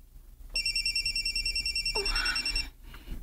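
A telephone rings in a drama scene with a bright, repeating electronic trill that sounds for about two seconds over quiet room tone, then stops. No one speaks.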